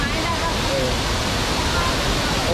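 A waterfall at Chet Khot Pong Kon Sao in Thailand roars in a steady, loud, broadband rush that fills the whole clip without a break.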